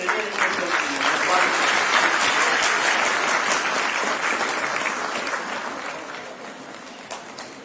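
A conference audience at an Ibn al Arabi event applauds Dr. Zahid with dense, enthusiastic clapping from many hands. The applause holds strong at first, then gradually thins and fades toward the end.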